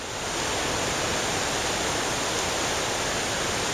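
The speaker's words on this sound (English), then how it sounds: "Out at Englishman River. We got the river rising right up to here." Rain-swollen Englishman River rushing high after days of rain, a loud, steady broadband roar of flowing water, close by and unbroken, with no voices.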